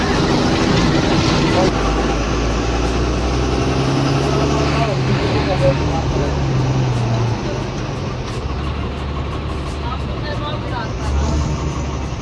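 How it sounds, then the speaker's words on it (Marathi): A state transport (ST) bus ride with a steady low engine drone and rumble continuing throughout, and faint voices in the background. "मी चाललोय आता एसटी मध्ये."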